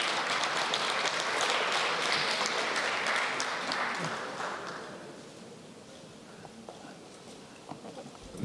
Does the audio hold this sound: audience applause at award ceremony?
yes